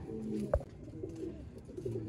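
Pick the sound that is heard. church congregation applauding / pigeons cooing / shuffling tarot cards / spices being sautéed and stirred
pigeons cooing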